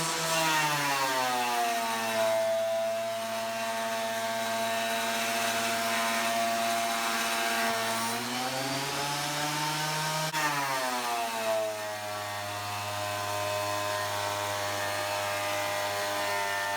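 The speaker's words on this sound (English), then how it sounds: "on the bandsaw, I virtually cut this thing in half" A bandsaw runs steadily through a thick glued end-grain cutting board, its loud, continuous harmonic whine dipping and rising in pitch as the blade loads and frees through the wood, with no voices.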